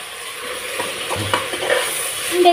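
White brinjal pieces fry in hot oil while being stirred, a close, moderately loud sizzle with intermittent scraping and clatter of the spoon against the pan.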